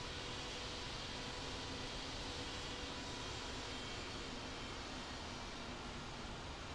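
Airliner taxiing to parking at Hong Kong International in Infinite Flight, heard as a steady, even broadband engine and air rush that holds constant throughout with no change in pitch or level.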